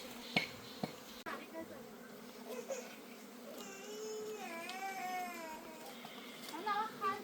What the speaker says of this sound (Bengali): ওই মৌমাছি উপরে উঠে যাচ্ছে